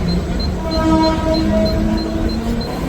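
A train rumbles nearby with a sustained high tonal whine and hum, steady and loud, like a local train idling at a platform.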